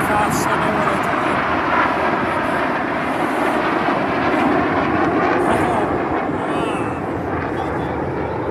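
RAF Red Arrows jets flying an aerobatic display at the Bournemouth Air Festival 2023 give a continuous, loud, broad jet roar that holds steady for the whole stretch, with faint voices beneath it.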